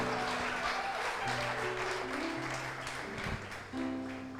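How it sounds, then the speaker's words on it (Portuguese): A church congregation applauds during an evening service, a dense, steady wash of clapping that fills the space, with sustained musical tones underneath and a brief dip near the end. "Aleluia, você pode aplaudir Jesus, aleluia"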